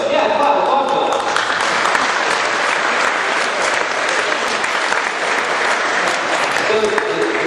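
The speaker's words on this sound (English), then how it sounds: "applause for that" Applause from the audience at a Job Corps commencement ceremony, a loud, dense and sustained clapping from a large crowd that carries evenly across the whole stretch, with a few voices faintly mixed in.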